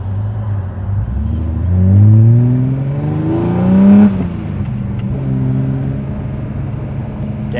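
A car engine revs up hard as it accelerates, pitch climbing steadily through the gears, loud and close, then easing off into a lower drone.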